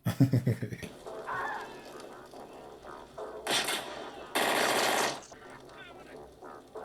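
Gunfire rings out in The Terminator, with a rapid burst of shots at the start, then louder bursts of sustained shooting mixed with film noise, faint voices and a reacting viewer.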